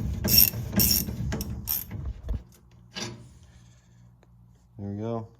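A cheap ratchet works loose the brake bolts on a 1964 Plymouth Fury during a disc brake swap: loud, close bursts of rapid clicking and metallic ratcheting for about two seconds, then quieter handling noises, with a brief voice near the end.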